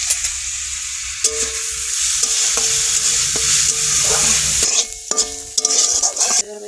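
Lentils frying in oil in a wok-style pan, a loud, close, continuous sizzle with clinking stirring strokes that grow busier near the end.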